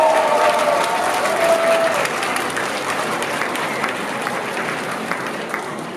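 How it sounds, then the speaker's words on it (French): Audience applause at a conference, a steady wash of many hands clapping from a room full of people, loud and even for the whole stretch, with a brief tonal whistle or feedback ring early on. "David Lafarge, applaudissements."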